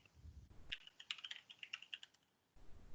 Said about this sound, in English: I'm going to go ahead and type my email in